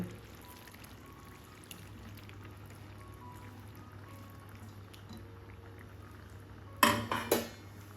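Okra drops into a pan of Punjabi bhindi masala, giving a brief, close clatter and splash near the end after a stretch of quiet kitchen background.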